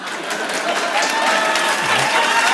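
Steady audience applause fills a live talk, a dense, fairly loud wash of many hands clapping that holds evenly for about two and a half seconds, with faint crowd murmur beneath.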